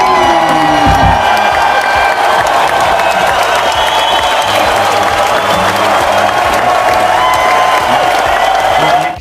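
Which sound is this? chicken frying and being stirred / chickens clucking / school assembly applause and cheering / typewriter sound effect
school assembly applause and cheering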